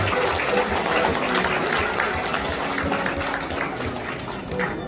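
Wedding guests at a Korean wedding clap together in a dense, steady round of applause that fills the room, loud and continuous with no break.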